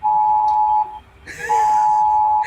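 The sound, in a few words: phone emergency warning alert tone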